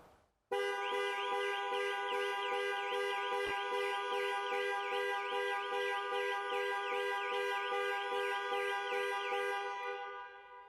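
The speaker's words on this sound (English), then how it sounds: "Press for 3 seconds or press 3 times in 3 seconds and the horn will sound" A 2020 model-year Jaguar XE panic alarm horn blares in rapid, steady repeated honks for about ten seconds, loud and close, then trails off at the end.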